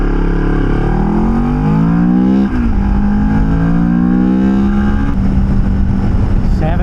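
A motorcycle engine accelerates hard through the gears on a highway speed run toward 70 to 85 mph, loud and close, its pitch climbing steadily, dropping at each shift around 2.5 and 5 seconds, then rising again over constant wind roar.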